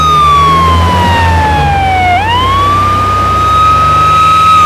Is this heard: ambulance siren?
yes